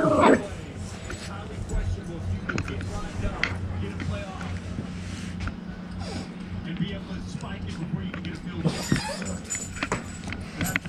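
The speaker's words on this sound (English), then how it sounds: "Why you gotta bark at him?" A dog gives yips, whimpers and a few barks indoors at a New Year's gathering, fairly close, with people talking over a steady low hum throughout.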